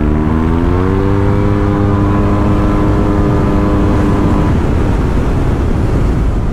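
A Yamaha TMAX maxi-scooter engine pulls hard, its loud drone climbing steadily in pitch as it accelerates toward 100 km/h, with heavy wind roar over the top and no talking.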